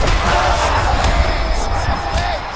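A virtual arena crowd in the EA Sports UFC 5 fighting game roars as a fighter gets back to her feet after a long ground battle: a dense, sustained wash of cheering with a few sharp impacts and faint commentary underneath.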